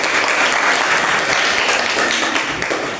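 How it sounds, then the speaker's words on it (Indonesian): A classroom of students applauding a presenting group during a Catholic religious education lesson in Merauke, a dense, steady wash of many hands clapping at close range for about three seconds. "kita beri tepuk tangan untuk kelompok"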